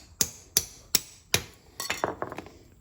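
Sharp metallic taps as a chain pin is punched out of a motorcycle chain using vice grips holding a nail, four evenly spaced strikes followed by a quicker cluster of lighter clinks, close and clear.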